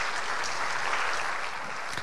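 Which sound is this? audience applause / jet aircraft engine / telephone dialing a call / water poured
audience applause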